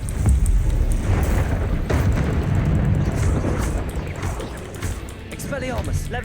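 Glacius and Depulso spells cast in Hogwarts Legacy, heard as heavy rumbling blasts and whooshing bursts that fill the clip, with a voice talking over them.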